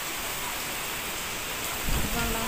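Steady, dense rain from a typhoon hissing on surfaces with a broad roar of wind, swelling slightly louder toward the end.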